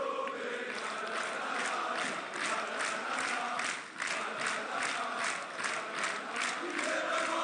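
A packed wrestling crowd at a GCWxBZW event in France roars in a steady, dense wall of noise, with rhythmic chanting or clapping pulsing through it.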